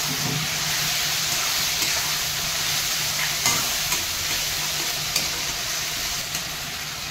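Spice masala with Kashmiri chili and black pepper powder fries in oil for a Bengali katla fish curry with ridge gourd and mango leaves, making a continuous close hissing sizzle with faint scrapes of stirring throughout.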